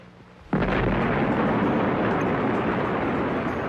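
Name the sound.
nuclear bomb explosion in the Nevada desert, archival footage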